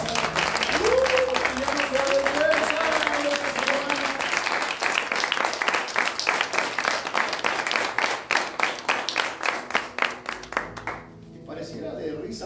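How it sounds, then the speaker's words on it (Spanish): A church congregation applauds steadily and fairly loud, and a voice rings out over the clapping early on. The applause thins into separate, rhythmic claps before fading near the end. "den otro aplauso al Señor"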